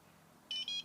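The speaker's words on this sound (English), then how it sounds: "So beep once," A shop vacuum's automatic power switch gives a short electronic beep, a brief high two-part tone against quiet room background, faint and close, with no talk.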